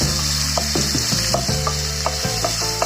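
Onions for a Chettinad mushroom gravy sautéing in a pan: a continuous loud sizzle broken by repeated scraping strokes of a spatula against the pan, with no talking.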